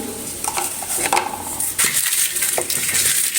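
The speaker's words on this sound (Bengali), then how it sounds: "ভালোভাবে লবণ দিয়ে মতে নিলাম" Roasted tomato bharta with salt, dried chillies, coriander and onion is mashed by hand in a dish, giving wet squelching and light scraping against the bowl, steady and close without talk.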